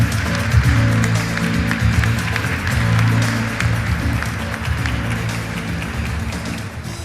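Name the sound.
audience applause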